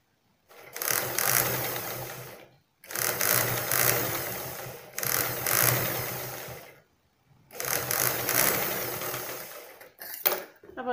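A sewing machine stitches neck piping onto a fabric piece, running in four steady bursts of whirring motor and rapid needle clatter with short pauses between them, close and fairly loud.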